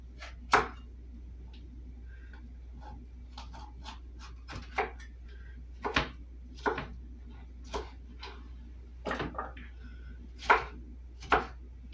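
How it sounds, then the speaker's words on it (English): A knife roughly chops vegetables on a cutting board during easy meal prep, giving a dozen or so irregular, sharp chopping knocks close up over a low steady hum, with no talking. "Just give it a rough chop."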